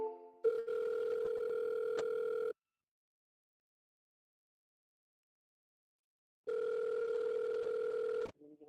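A telephone rings on an outgoing call, heard as a steady electronic ring tone in two long bursts separated by several seconds of silence.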